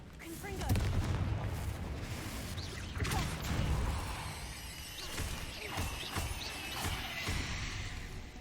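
Repeated fiery blasts of the Confringo spell fired in the video game Hogwarts Legacy, loud booming bursts spread across the clip over a busy game soundscape.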